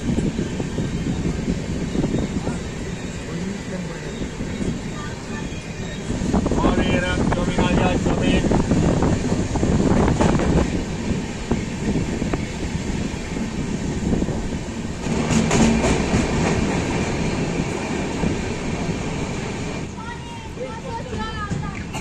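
The Jammu Tawi Express rolls slowly along the rails with a steady low rumble and wind buffeting the microphone, while people talk nearby.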